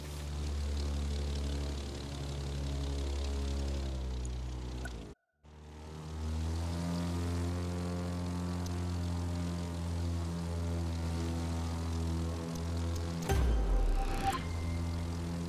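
Propeller plane flying in The Crew 2 racing video game, a steady droning engine tone with strong harmonics, briefly cutting out once, then returning and ending in a short burst of noisier engine sound.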